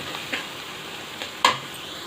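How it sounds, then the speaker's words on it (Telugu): Tomatoes with chili, turmeric and salt cook in a pan for gongura pappu, giving a faint sizzle broken by a few soft scrapes as the mixture is stirred. "ఈ విధంగా మిక్స్ చేసి టమాటాలను బాగా మగ్గనివ్వాలి."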